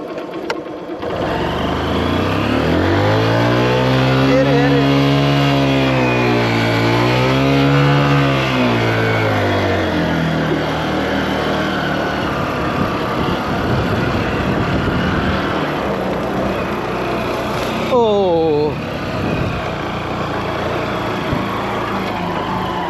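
A vehicle engine straining and revving while stuck in sand in a rural area, a loud continuous drone that rises and falls in pitch, then a sharp rev near the end.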